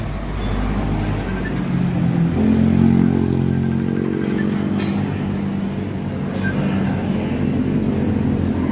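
A Honda TMX 125 motorcycle engine runs at a steady idle up close, a continuous low throbbing drone with a slight rise in the middle and a few light clicks toward the end.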